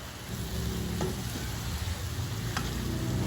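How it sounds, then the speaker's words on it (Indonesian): Bean sprouts sizzle steadily in a hot frying pan while being stirred, with a few sharp utensil scrapes against the pan and no talking. "Lalu kita aduk-aduk kembali."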